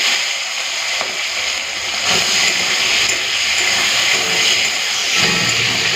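Loud continuous sizzling and hiss of prawns frying in hot oil in a wok, dense and close with slight swells, no talking.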